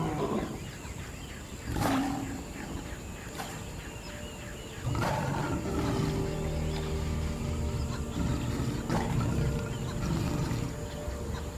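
An adult male lion roars at dusk on the Serengeti savannah, a series of deep, spaced grunting bursts that swell louder partway through over an open outdoor background.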